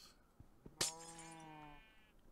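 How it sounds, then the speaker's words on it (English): A glass block shatters in Minecraft on the FoolCraft modpack: one sharp, bright crash after a couple of soft clicks, followed by a sheep bleating nearby. "Let's get this thing mine the glass."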